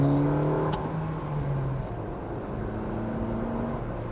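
Suzuki Dzire AGS car engine revving as it accelerates, a steady low drone with rising tonal hum and road noise throughout, fairly loud and close, with no talking.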